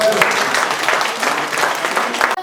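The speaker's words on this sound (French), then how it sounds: "Applaudissez pour tout le monde." Loud, dense applause from a gathered audience at a school supplies handover ceremony, steady clapping throughout with faint voices underneath, cutting off abruptly near the end.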